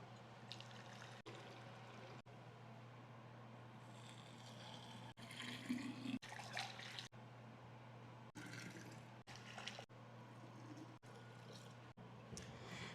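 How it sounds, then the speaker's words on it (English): About three liters of just-boiled water pours steadily into a container for brewing raspberry leaf kombucha, a continuous splashing rush over roughly thirteen seconds with a few brief breaks and a slightly louder surge midway. "Now I'm going to add my boiling water, and it's going to be 3 liters or 3 quarts of hot water that I'm going to add to this."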